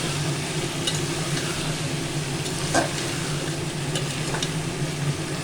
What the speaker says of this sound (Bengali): এই সময় আমি সবজিটা দিয়ে দেব সবজিটা দিয়ে এবার ভালো করে কষাবো